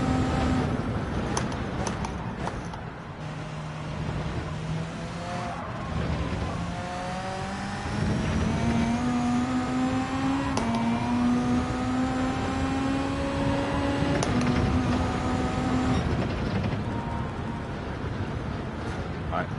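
A race car engine in Gran Turismo 7 at Road Atlanta, loud and continuous, revving up through a seven-gear box with rising pitch sweeps and sharp drops at each shift.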